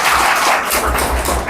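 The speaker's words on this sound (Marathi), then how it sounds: "पवन रणखाम सर यांच्यासाठी पुनश्च एकदा जोरात टाळ्या होऊ द्या" An audience at a school singing competition applauds loudly for a teacher, a dense, steady burst of clapping filling the short moment.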